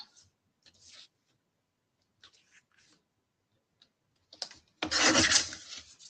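Paper being trimmed with a paper trimmer for a sketch layout: a few faint, sparse scrapes and clicks, then a louder, closer rasping slide of the blade near the end.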